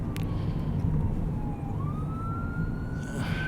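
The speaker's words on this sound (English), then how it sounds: "okay, we got an ambulance" An ambulance siren wails in long rising and falling sweeps over the hum of a car driving through Montville, Connecticut, moderately loud and passing by.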